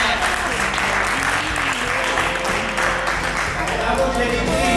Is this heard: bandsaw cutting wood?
no